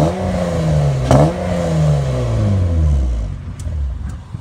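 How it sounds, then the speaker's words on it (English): A Honda's exhaust drones loud and close, its pitch sweeping down and back up through a rev, then easing off and settling lower, with no voices over it. "The exhaust sounds beautiful."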